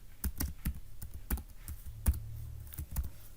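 Someone types a product description on a computer keyboard, a steady run of quiet, close key clicks with uneven rhythm and no talking.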